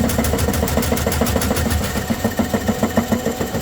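A drain snake spins inside a clogged kitchen sink pipe, giving a close, steady motorised whirring with a rapid rhythmic pulse that shifts into a slower, heavier thumping beat toward the end, with no talking.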